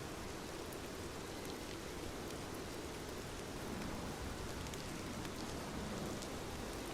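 Steady rain falls evenly and continuously, a soft dense hiss with no breaks or changes, faint and far off, nobody speaking.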